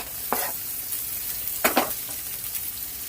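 Onions are added to hot oil with cumin, chili and garlic and stirred: a steady sizzle runs underneath, with a few scraping stir strokes that are close but moderate in level, and no voices.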